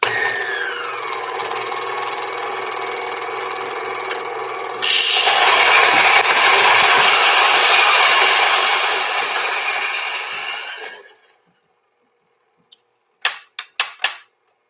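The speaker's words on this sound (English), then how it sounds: "Move the grinder into position." An electric grinder grinds 24 grams of coffee beans for pour-over, a loud steady whirring roar lasting several seconds before it spins down into silence, followed by a few sharp clicks and taps.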